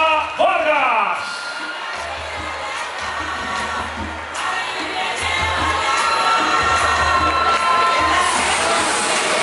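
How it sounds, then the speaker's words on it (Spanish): A large crowd cheers, whoops and shouts with applause to welcome the 2017 pageant queen at a coronation night. The roar is loud and sustained, with shrill voices rising above a dense wash of noise. "recibimos también con un fuerte aplauso a la reina 2017, Estefanía Mendoza Vargas"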